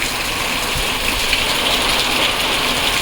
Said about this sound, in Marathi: आज पण पावसाची जोरदार सुरुवात झाली